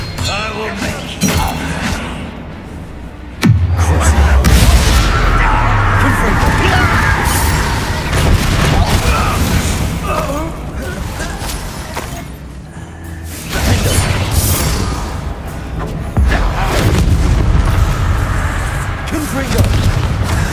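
Confringo fire spells exploding in Hogwarts Legacy, loud booming blasts with crashing debris, one big hit near the start and more bursts later amid constant battle noise, with a voice speaking over parts of the fight.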